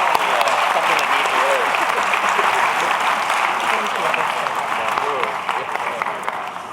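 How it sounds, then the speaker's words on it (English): Loud, dense applause from a large crowd for a choir at a Martin Luther King Jr. commemorative ceremony, steady throughout with a slight fade near the end. "Give that choir another round of applause"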